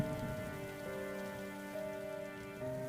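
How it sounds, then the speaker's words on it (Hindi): Continuous rain pours in an even, wash-like hiss, accompanied by sustained musical tones that shift pitch every second or so, with no voices. "अब ये लगातार बारिश हो रही है"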